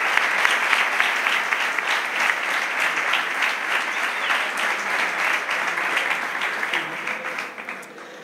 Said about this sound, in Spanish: Un aplauso para María del Mar.